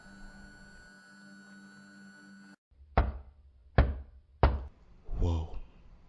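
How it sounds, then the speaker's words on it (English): Three sharp, separate knocks ring out in a quiet room, evenly spaced about a second apart after a low electrical hum cuts off, then a brief voice follows. "Give me 3 knocks so I can know that you're here."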